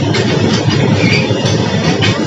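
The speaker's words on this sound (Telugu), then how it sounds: "ఇక్కడ నచ్చినప్పుడు ట్రైన్ వస్తుంది" A train passing close by a railway track near Karimnagar, a loud, dense rumble with faint rhythmic pulses, steady throughout and with no talk over it.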